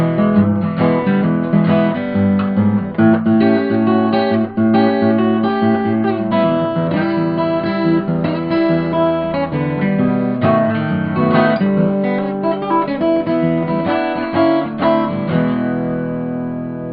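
Acoustic blues guitar plays an instrumental break in Lightnin Hopkins style, thumb bass syncopated against fingerpicked treble notes, a steady, full, close-miked fingerstyle passage played alone without talking.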